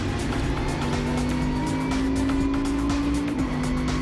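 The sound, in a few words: K-PAX race car accelerating on track, Utah Motorsports Campus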